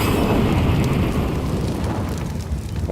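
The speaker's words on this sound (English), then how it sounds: "Explosions behind him." Grenade explosions in a Counter-Strike match rumble as a dense, sustained low roar that fills the whole moment, loud and close with no voices.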